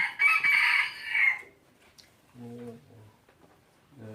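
A rooster crows loudly and close at the start, one full cock-a-doodle-doo, followed by quieter clucking while a person speaks in the background.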